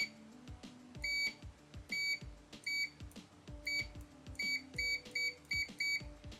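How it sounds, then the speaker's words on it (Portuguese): Short high electronic beeps from an Aneng V9 multimeter, coming in quick repeated bursts of two or three with a steady rhythm, fairly quiet and close, with faint clicks and low tones between them. "O bip dele não é muito alto, mas eu acho que é um bip na medida certa"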